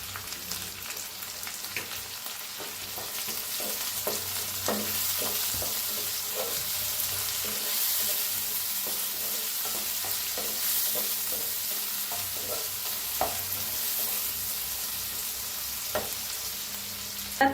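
Tomatoes and other vegetables roast in a new kadhai with a steady sizzle and spitting crackle, while a utensil stirs and scrapes against the pan in irregular clicks, close and continuous with no voices.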